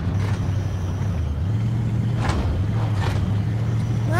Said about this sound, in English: Just keep driving.